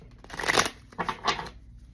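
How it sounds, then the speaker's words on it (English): Two quick bursts of riffling cards as a reading deck is shuffled, a crisp flutter then a shorter second riffle, close and fairly quiet, with no talking. "I'm going to shuffle them back into the deck."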